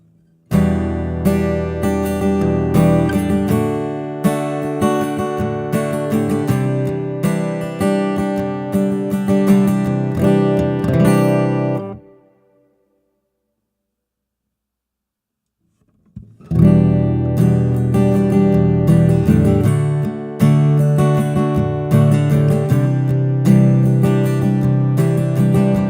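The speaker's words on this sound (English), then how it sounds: "So I'm going to just play the guitar, no vocal microphone." Acoustic guitar played through an LR Baggs AEG-1 pickup with EQ, strummed chords ringing loud and close, then a few seconds of silence before the playing resumes, with no voice.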